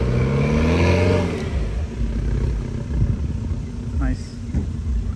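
A Thar 700 off-roader's engine works steadily and loudly as the vehicle crawls out of an obstacle in extreme off-road conditions, revving then settling as people talk over it.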